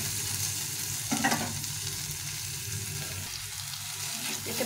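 Ingredients for a flattened-rice chutney frying in a pan, a soft, close sizzle with a few stirring knocks and scrapes, fairly quiet and steady.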